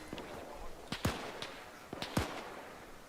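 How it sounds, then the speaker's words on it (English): Explosions in the military shooter game Arma 3: two clusters of sharp, booming blasts, each a pair of hits about a second apart, standing out over a low rumbling background with faint radio chatter. "Explosions"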